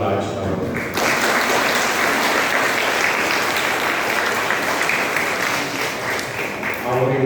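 A congregation at the annual feast and flag-hoisting of the Infant Jesus shrine in Guindy breaks into loud, sustained clapping. The applause starts after a brief opening sound and fills the whole stretch evenly.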